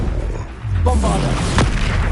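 Bombarda spell blast in Hogwarts Legacy: a deep booming explosion bursts out mid-clip over a steady game soundscape, with a voice speaking around it.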